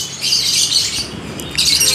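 Stock lovebirds and canaries squawk and chirp together in a dense, loud, continuous chorus of close, shrill calls, with no talking.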